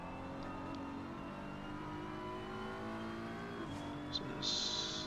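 Onboard engine of a BMW race car in a sim racing game, a steady high-pitched drone rising through the revs with a gear change partway and a brief squeal near the end, under a commentator talking.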